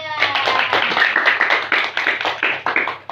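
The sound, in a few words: applause for group 3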